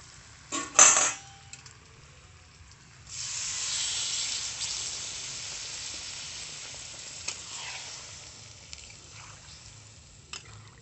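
Water is poured into a pan of fried potatoes for Kashmiri dum aloo, setting off a sudden loud hiss and sizzle that slowly settles into a softer steady steaming, after a brief clatter at the start.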